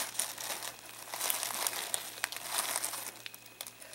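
Bubble wrap around model kit parts crinkles and crackles faintly in irregular bursts as it is handled close up, with no talking.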